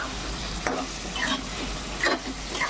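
Chicken pieces fry with freshly added masala, a soft sizzle under a few close scraping stirs of a spoon through the thick mixture.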